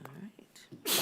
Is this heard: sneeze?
yes